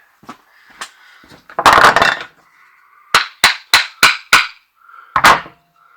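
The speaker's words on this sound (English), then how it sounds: "So I'll hammer a little bit on it" A hammer strikes a metal wheel motor part of a Husqvarna Automower robotic lawnmower. A few scattered knocks and a longer scraping clatter come first, then a quick series of five sharp, close, ringing taps and one final hit.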